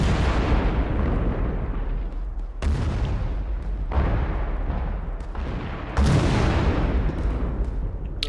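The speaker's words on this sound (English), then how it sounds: "This is a rolling barrage." Rolling artillery barrage in Arma 3, a continuous heavy roar of explosions with several sharp, loud impacts landing a second or so apart, close and dense, with no voices.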